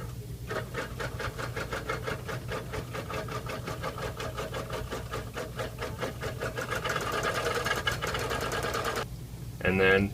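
A Bernina Q24 long arm quilting machine stitches at a steady mechanical clatter, running continuously with a rhythmic whir and tapping throughout, then stopping near the end.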